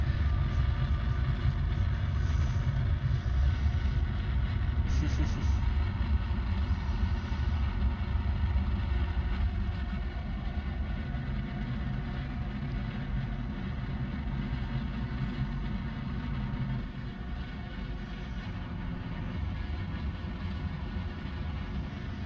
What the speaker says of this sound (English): I hope you enjoy the sound of nuclear engines running at 4 times normal speed